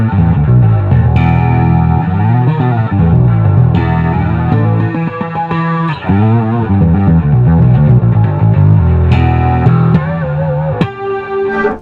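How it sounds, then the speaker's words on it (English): A distorted electric bass through an EBS Billy Sheehan Signature Drive pedal plays a riff with a shimmering chorus effect, loud and gritty, with sustained notes and slides. "you'll hear now just the distortion is chorusing"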